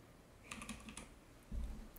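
A few quick keystrokes on a computer keyboard during animation software work, then one firmer, louder press of the Enter key near the end, close and alone with no talking.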